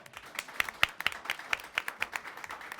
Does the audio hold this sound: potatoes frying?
no